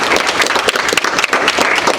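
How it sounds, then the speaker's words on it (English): An audience at a heritage month panel applauds the panelists, a dense, steady wash of many hands clapping loudly and close, with no break for two seconds. "We give a round of applause for our panelists."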